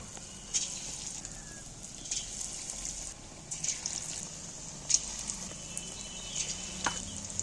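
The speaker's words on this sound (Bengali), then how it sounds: "এবার মাছগুলো যে কড়ায় দিয়ে দিচ্ছি" Fish pieces frying in a wok for chilli fish give a soft, steady oil hiss, broken by scattered louder crackles and pops as pieces go in, quiet and close.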